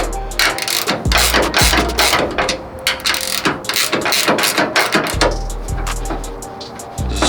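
A ratchet wrench clicks in quick bursts while tightening the nut on a tailgate strut of a 1999–2007 Classic truck, close and loud, with short metallic ratcheting runs and brief pauses between strokes.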